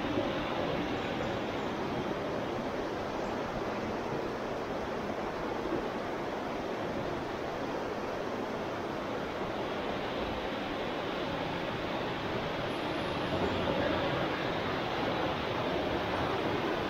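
The swollen Jaghori river rushes in spring flood, a steady, dense broadband roar of churning water that holds evenly and unbroken from start to finish.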